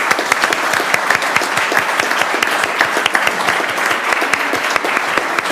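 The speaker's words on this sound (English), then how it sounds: "round of applause" A room of people at a city council meeting applauds steadily, dense sharp claps filling the space for several seconds with no talk over it.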